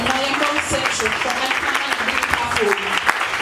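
Wedding guests at a Ghanaian tribal celebration clap steadily for a bishop, a loud continuous burst of applause mixed with voices and crowd noise.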